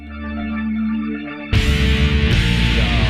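A sustained, droning keyboard-like tone gives way to a sudden loud burst of dense, distorted progressive metal with heavy drums and guitars.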